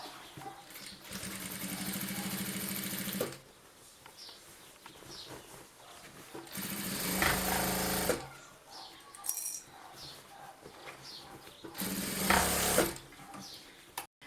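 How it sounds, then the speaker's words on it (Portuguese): A sewing machine stitches the thick fabric of a shoulder and stroller bag for mother and baby, running in three steady mechanical bursts of a few seconds each, separated by quieter pauses. "Então, costurando aqui nessa parte, vou finalizar."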